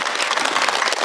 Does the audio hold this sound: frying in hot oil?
no